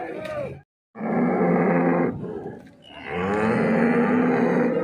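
Cows at the Chintamani cattle market give loud, drawn-out moos and grunts close by. A short silent gap breaks the calls, and busy market noise fills the background.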